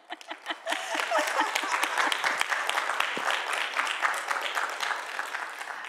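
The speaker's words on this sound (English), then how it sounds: "let's have a round of applause for Vivian" Audience applause for a speaker at an internship information session: dense, sustained clapping from a crowd, starting with a few scattered claps and quickly filling in, steady and fairly close for several seconds.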